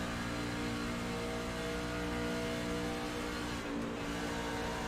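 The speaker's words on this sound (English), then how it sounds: "He's right on the gas pedal, so Cody's just hauling ass up there" A racing truck's engine roars steadily at full throttle during a truck series race at Kansas, a loud, continuous drone with no pause or break.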